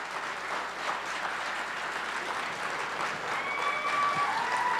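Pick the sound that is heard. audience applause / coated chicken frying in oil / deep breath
audience applause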